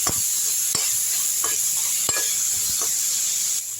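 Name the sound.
sautéing tomatoes in a pan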